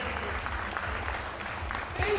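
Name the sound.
audience applause for powerlifters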